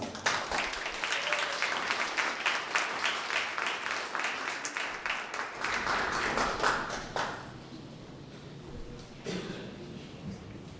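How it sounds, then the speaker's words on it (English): An audience gives a round of applause at a campus talk on Cesar Chavez and farm worker activism, dense clapping that fades over several seconds and trails off into scattered claps and a quieter room. "So let's give him a round of applause"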